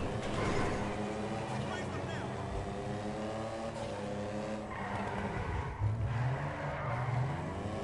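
A muscle car's engine in GTA V, running loud and steady with tire skidding and squeal layered on top, and a voice speaking over it.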